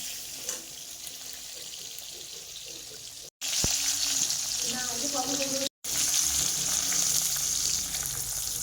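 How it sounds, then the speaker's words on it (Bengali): Okra frying in a pan gives a steady sizzle throughout, joined by running water and a few light clinks. No one speaks. "তো এখানে দেখো ঢ্যাঁড়স ভাজা করছি"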